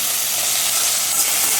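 Garlic and dried red chillies sizzle in hot oil in a pan for chutney, a steady, loud, close hiss of frying with no voices.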